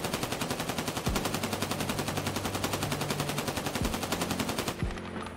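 A rifle fitted with an optic fires in Escape from Tarkov as one rapid, steady automatic burst that runs loud and continuous for about five seconds before cutting off abruptly.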